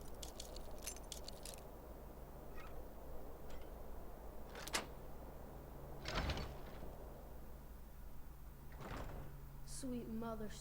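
A door lock is picked and opened in a video game: scattered metallic clicks and rattles over quiet background hum, a louder thump midway, more clicks, then a brief voice near the end.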